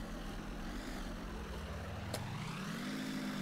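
A tank engine idling and revving in the tank simulator game Steel Fury, a steady low rumble whose pitch dips and then climbs, with one brief click partway through.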